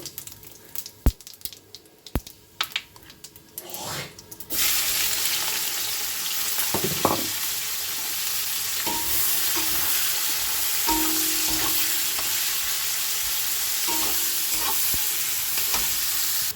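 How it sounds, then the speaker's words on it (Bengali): Garam masala with black pepper, cloves and cardamom frying in hot oil for chicken kasha, a few sharp knocks at first, then a loud continuous sizzle close by with light stirring scrapes. "এটা ভাজা ভাজা হয়ে আসলে আমি দিয়ে দেবো কেটে রাখা এই পেঁয়াজগুলো"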